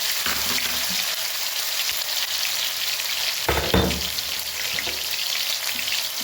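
Mustard seeds, cumin and tomato sizzle in a few spoonfuls of hot oil, the start of a bottle gourd and chana dal dish. The frying is close and steady, with a brief louder surge midway as the pan is stirred.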